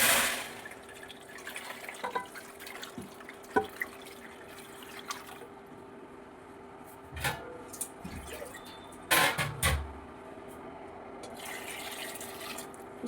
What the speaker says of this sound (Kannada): ಇವಾಗ ಒಂದು ಸ್ವಲ್ಪ ನೀರನ್ನ ಹಾಕ್ಕೊಳ್ತಾ ಇದ್ದೀನಿ ಇದಕ್ಕೆ.